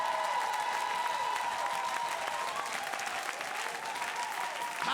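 Church congregation applauding the Lord, steady dense clapping from a large crowd with a few cheers mixed in, loud and unbroken throughout.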